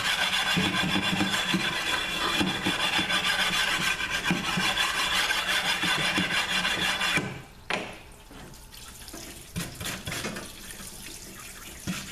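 One half of a 722.9 automatic transmission valve body is sanded flat, giving a loud, steady, gritty rubbing that runs for several seconds, then stops and leaves quieter scraping and handling noises.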